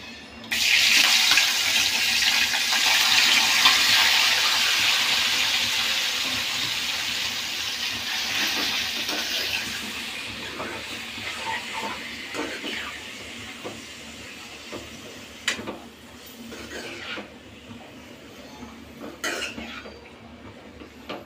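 Chicken pieces hitting hot oil in a pan for a village-style chicken fry, a loud steady sizzle and hiss that slowly fades as the frying settles, with small crackles and pops toward the end and no talk.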